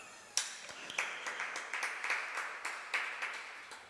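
An audience at a religious discourse by a Jain monk claps in a run of sharp, fairly close hand claps, about a dozen bursts in a loose, uneven rhythm.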